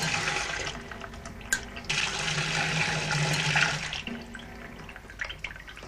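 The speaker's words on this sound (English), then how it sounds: "So if I release the pressure, the water will start coming out" Water gushes steadily from a washing machine valve once its pressure is released, a close rushing flow with gurgles that eases and thins out toward the end.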